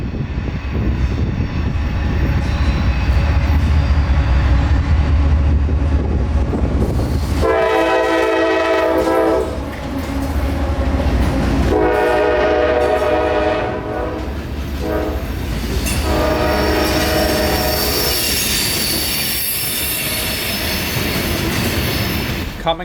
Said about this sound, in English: Coming off of the Yeoman Yard bypass and turning south onto the Tampa Terminal subdivision is CSX train K339